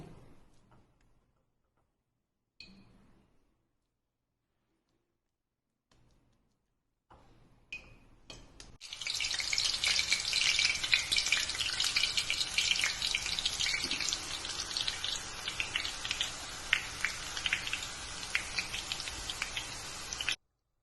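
Omapodi, a Tamil snack of pressed gram-flour strands, sizzles in hot oil after a near-silent start, a dense, crackling bubbling that starts abruptly and stays loud and busy to the end, with a few faint clicks of utensils beforehand.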